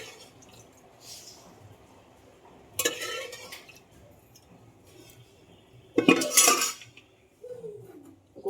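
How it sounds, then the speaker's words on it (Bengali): Mutton being stirred and sautéed in a pot, with a couple of loud metallic scrapes and clatters of the spoon against the pot between quieter stretches. "চলো আমি এটা একটু কষিয়ে নিই সুন্দর করে"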